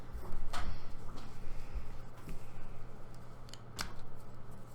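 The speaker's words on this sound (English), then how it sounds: "Why don't you shuffle them all, Rob?" A deck of cards for the Secret Hitler tabletop game being shuffled at a table, with repeated crisp riffling bursts and card handling sounds close by.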